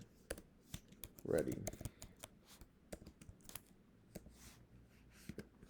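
Quick bursts of typing on a computer keyboard, close and faint, with irregular key clicks and pauses; a brief spoken word and a louder rustle break in early on.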